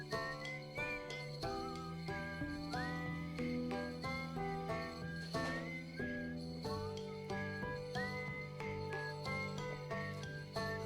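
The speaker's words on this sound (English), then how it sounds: "The out-of-tune whistling, it's so good." Music from the Monster Hunter Generations Ultimate video game plays continuously, with a thin, wavering, out-of-tune whistled melody gliding over layered instrumental backing at moderate loudness, and no talking.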